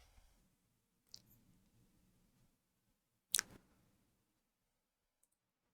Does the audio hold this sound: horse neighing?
no